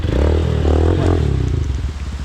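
A Motorstar MSX 150SR motorcycle engine drones steadily during a test ride, close and loud, with pitch shifting as the throttle changes and light clattery road noise mixed in.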